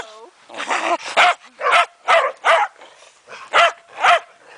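A Shetland Sheepdog barks repeatedly in quick, loud bursts close by during a snowstorm, with small whimpering sounds between the barks.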